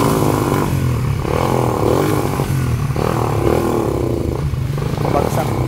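A misfiring motorcycle engine runs loud and near, stumbling and sputtering as its revs sag unevenly, with a voice talking over it throughout.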